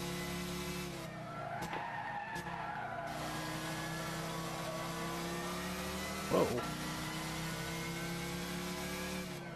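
NASCAR stock car sliding sideways in Gran Turismo at Willow Springs, steady engine drone with a drawn-out tire squeal and a sharp screech near the end, voices talking over it.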